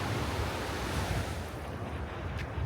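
Ocean waves roll onto a beach at Koh Rong, Cambodia, a loud, continuous surf roar with deep low rumble and wind buffeting the microphone, no voices.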